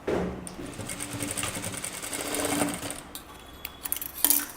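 A sewing machine stitches a kurta in a steady, fast whirring run that lasts most of the stretch, pauses briefly, and ends with a couple of short sharp bursts.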